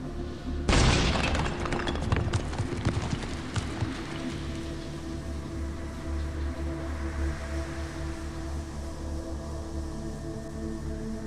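A CO2 filter packed with gunpowder blows up at the base of a pillar in the video game Morningstar, giving one sudden loud boom with crackling debris that fades into a low steady rumble.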